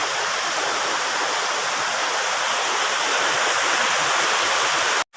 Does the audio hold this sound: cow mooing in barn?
no